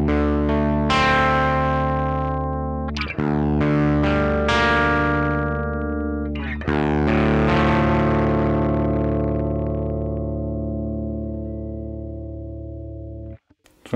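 An electric guitar plays through a DSM Humboldt Simplifier with the gain turned up, giving several distorted, sustained chords that ring out loudly and fade, with no talking.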